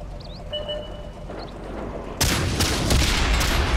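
Tank cannon fire in World of Tanks on Xbox One, heard as a heavy burst of blasts and rumbling explosions that starts partway in and keeps going loud after a quieter stretch with faint whistling effects.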